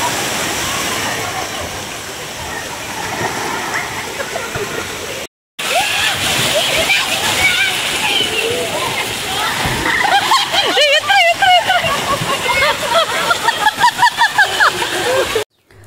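Water splashes and pours down a slide at the Wild Waters amusement park in Shankerpalli, Hyderabad, in a continuous loud rush with a brief dropout, and excited voices rise over it.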